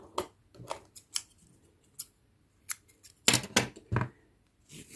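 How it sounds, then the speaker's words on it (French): Crochet yarn is cut with scissors, heard as a series of crisp, close snips and blade clicks at uneven intervals, ending in a louder cluster of cuts, with no talking. "Je vais couper le fil."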